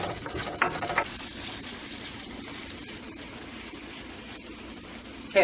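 Vegetables caramelizing in a frying pan give off a steady, close sizzle with soft crackles and a few stirring bumps throughout.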